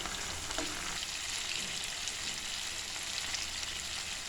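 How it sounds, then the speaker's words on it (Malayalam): Fish pieces fry in oil over a medium flame, a soft, even sizzle that carries on steadily at low volume with a faint clink near the start. "മീഡിയം ഫ്ലെയിമിൽ വെച്ച് നന്നായിട്ടൊന്ന് വറുത്തെടുക്കാം"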